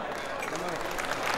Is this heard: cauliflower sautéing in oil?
no